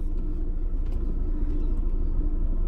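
Steady low rumble of a Honda S2000 AP1 idling nearby, a continuous loud engine drone with no talking over it.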